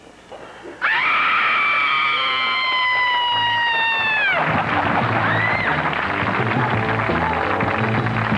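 A woman on a TV talk show lets out a long, loud, piercing scream that holds steady for several seconds, then breaks off into audience noise and a rumble of crowd reaction.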